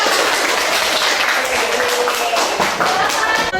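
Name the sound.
classroom applause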